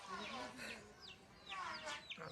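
A rooster clucks in short, repeated throaty calls, fairly close, with a few higher bird-like chirps mixed in and quiet voices alongside.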